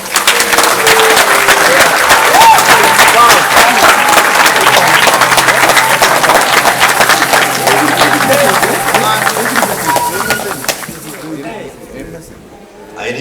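Loud, sustained applause from a large crowd at a book prize award ceremony after a poetry performance, steady clapping that fades out near the end.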